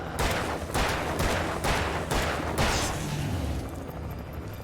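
Video game gunfire in a rapid series of about five sharp, loud booming shots at a regular rhythm, tailing off into a quieter rumble.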